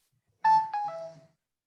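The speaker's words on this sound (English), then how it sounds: "What's that? My phone, sorry." A mobile phone ringtone going off during a board meeting: a short, clear two-note electronic chime, faint and heard alone in a quiet room.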